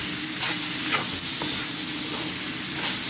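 Pork afritada being stirred in a pan with a steady sizzle of frying, broken by a few soft scrapes of the spoon, fairly close and with no talking.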